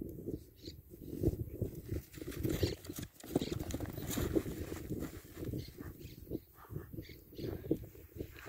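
Criollo horse hooves pounding during a sudden rush, dense rapid thumps close by with rustling and movement throughout, steady and busy across the whole stretch.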